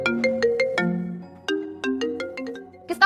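A mobile phone plays a melodic ringtone, a bright string of plucked synth notes in a repeating tune, close and clear with no talk.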